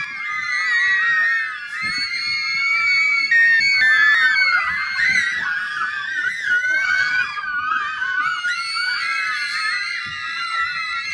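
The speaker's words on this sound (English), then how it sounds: "Stop screaming." A person screams loudly and shrilly without pause, with high wailing cries layered and overlapping throughout, close and intense, the sound of a frightened child or group of children.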